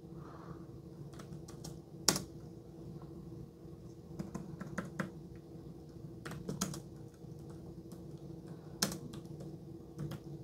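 Soft, irregular taps on an iPad Pro M1 keyboard in a quiet room, scattered clicks with a few sharper, louder strikes, no voices.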